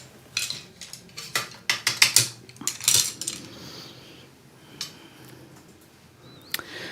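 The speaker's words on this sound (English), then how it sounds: "and dunk all these in the water." Paintbrushes dunked and rattled in a water jar during an acrylic landscape painting session, a quick run of bright clinks and taps against glass that thins out into a few scattered knocks.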